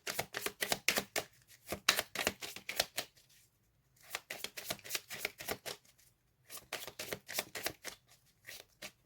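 Tarot cards shuffled by hand close up, rapid riffling bursts in several runs separated by short pauses, dry papery slaps, no voices.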